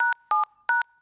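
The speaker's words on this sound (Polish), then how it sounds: "uważaj Jasiu, bo policzkiem włączasz poszczególne przyciski w telefonie bezdotykowym" Three short, evenly spaced telephone keypad tones as buttons on a touchscreen phone are pressed with a cheek, each beep crisp and close, with brief quiet gaps between.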